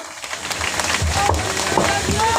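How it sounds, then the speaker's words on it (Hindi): Audience applause at an outdoor stage play, a dense, continuous wash of clapping from a crowd, moderately loud and sustained, with a voice faintly mixed in. "तालियों की गूंजाहट थोड़ी कम हो रही है"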